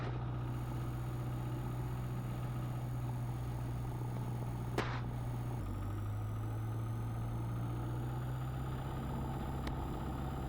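A light aircraft engine runs steadily at 1700 RPM, a constant droning hum that holds even throughout, with a slight dip in pitch midway and no talk.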